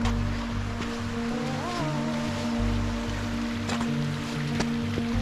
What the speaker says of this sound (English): This is a nice little crossing here where the water runs out to the sea.